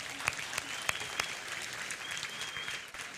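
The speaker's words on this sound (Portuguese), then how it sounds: "A salva de palmas para eles aí." A church congregation gives a short round of applause, faint and somewhat distant clapping with a few sharper claps standing out early.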